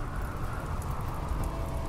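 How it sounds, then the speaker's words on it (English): Rain falls steadily in the video game Rimworld, a dense, even hiss of drops with no gaps and no voices. "Oh, here comes the rain."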